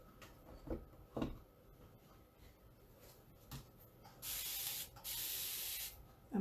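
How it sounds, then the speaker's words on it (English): Two long hissing bursts from a spray bottle follow a few soft handling clicks and rubs; close and fairly loud against near silence. "clean my fingers a bit with my spray bottle"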